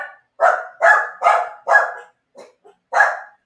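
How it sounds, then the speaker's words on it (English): Several dogs barking indoors in a burst of five sharp, loud barks, then a pause with a couple of faint yips before one more bark, close to the listener. "While my dogs freak out."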